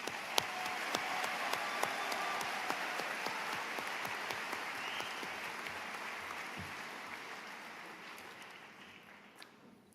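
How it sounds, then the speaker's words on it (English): A large audience at the 2024 Stevenson High School graduation applauds steadily for about ten seconds, dense clapping with a few sharper nearby claps, fading slightly toward the end. "Please join me in a round of applause for all of these fine accomplishments."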